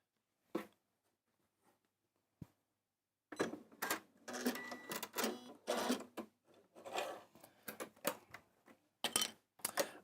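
A sewing machine stitches in quick stuttering bursts after a couple of isolated clicks, its bobbin having sprung out of place, the clattering runs close and uneven with brief pauses, no speech.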